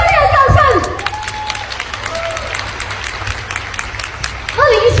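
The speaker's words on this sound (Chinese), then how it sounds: "再给我们的 B 方的一个热烈的掌声" An audience at a BE International company gathering claps in a warm round of applause, a broad, steady wash of clapping between bursts of an amplified voice at the start and end.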